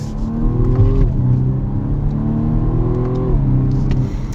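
A BMW 1 Series F40 M135i engine revs up, then drops sharply at each abrupt, aggressive gear change before climbing again; loud, close, continuous engine whine with no talking.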